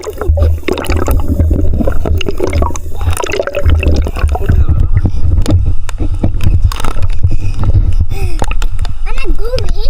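A person swimming with one hand in deep water, with loud, close churning splashes and sloshing throughout and a voice talking over the splashing.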